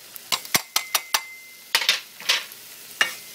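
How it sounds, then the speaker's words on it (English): Garlic sautéing in a pan with caramelized onions: a spoon stirs and scrapes in quick clinking strokes, with a soft sizzle under the strokes and no talking. "I'll saute it just like a minute more, watching my garlic"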